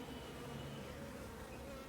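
Honey bees buzz around hive frames during an attempt to catch a swarm, a faint, steady, dense hum with no breaks.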